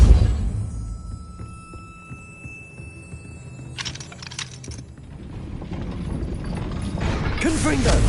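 A gate mechanism in Hogwarts Legacy raising after a levitation spell: low grinding hum and ratcheting clanks build from quiet, with a steady tone and brief clattering bursts, moderately close, over soft background ambience.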